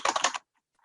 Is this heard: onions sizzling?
no